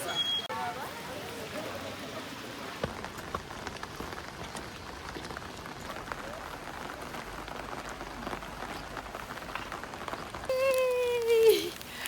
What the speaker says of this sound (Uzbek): Yomg'ir shunaqa quyapti.